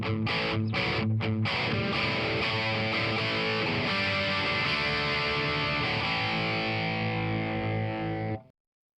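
An electric guitar played through an amplifier with the gain turned up gives a thick, sustained distorted tone after a few quick choppy strums, loud and steady until it cuts off abruptly, with no talking.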